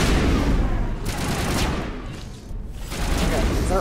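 Dense, continuous gunfire from the video game Mass Effect forms a loud crackling wash, with sharper bursts near the middle and a voice faintly mixed underneath.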